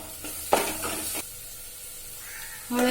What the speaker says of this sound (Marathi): तिखट घातल्यानंतर पण व्यवस्थित परतून घ्यायचंय आपण